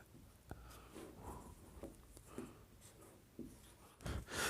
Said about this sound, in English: Okay, so let me write